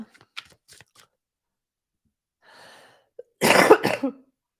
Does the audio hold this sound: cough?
yes